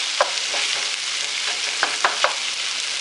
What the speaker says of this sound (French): Donc, on va laisser les oignons bien fondre.